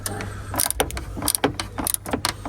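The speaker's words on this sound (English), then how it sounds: "Tightening the screw on the adjuster" A screw is tightened on the headlight adjuster of a BMW, a quick run of close mechanical clicks and ratcheting ticks over a low steady hum.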